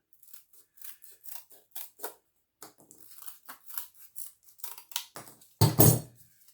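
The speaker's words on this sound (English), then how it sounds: "Now I will cut the line on the outside" Scissors cut along the outside line of a homemade Fortnite loot llama part, giving a quick, uneven run of crisp close snips with short gaps and one louder crunching cut near the end.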